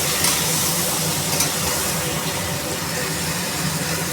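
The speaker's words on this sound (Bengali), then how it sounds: "মশলাটা দিয়ে আরও একবার আমি ভেজে নিচ্ছি" Meat fries in a pan with added spices, giving a loud, continuous hissing sizzle with faint stirring scrapes and no voices.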